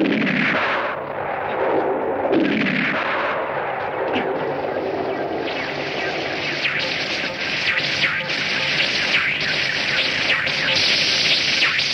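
Gunfire in an old 1930s Hollywood adventure film set on an island, a continuous barrage of blasts and noisy crackle filling the whole stretch, loud and steady with no clear pauses.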